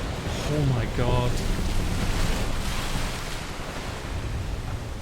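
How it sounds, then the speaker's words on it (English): A ship sinks beneath ocean waves in Final Fantasy XVI, with a loud steady roar of surf and churning water, and a voice speaks briefly near the start. "It's sinking beneath the waves."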